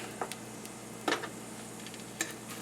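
Slices of Spam fry in a pan with a low, steady sizzle, broken by a few sharp clicks and taps as the pieces are flipped over.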